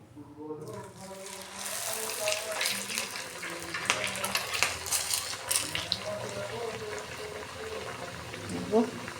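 Rolled pea kachoris drop into oil in a kadai and set off a continuous, close crackling sizzle that swells and fizzes throughout, with someone talking over it.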